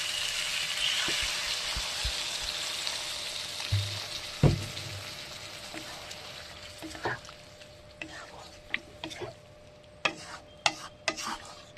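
Eggplant curry frying in a pan sizzles steadily with a hissing wash, then water poured in brings a few thumps and stirring clinks.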